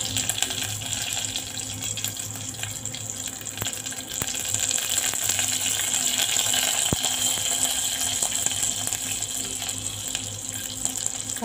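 Curry leaves hit hot oil in a pan while making khaman dhokla, giving a steady, loud, hissing sizzle with scattered crackles and pops that carries on alone without any talking.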